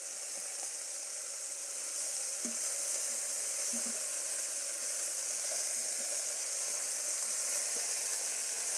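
Jamaican oxtails sizzle steadily in a pot, a continuous bright frying hiss throughout with a few soft scrapes and knocks from the stirring spoon, close and unbroken with no talk.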